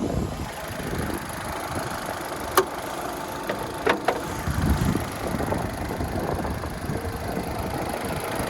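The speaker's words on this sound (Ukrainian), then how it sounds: "Двигун працює рівненько помилок нема ніяких" A 2011 Opel Zafira's engine idles steadily and close by, a continuous low rumble with a few brief clicks and knocks over it and no talking.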